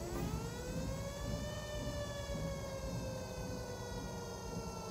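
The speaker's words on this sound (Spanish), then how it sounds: "Cuando sonaba la sirena en el barrio," A town siren wailing over the neighborhood, one long rising tone that swells and then holds a sustained, slightly wavering pitch, heard from a moderate distance with no talk.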